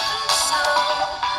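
Audio plays from the loudspeaker of a Moondrop phone, a steady broadband mix of music or sound, fairly quiet and continuous with small swells and no talk.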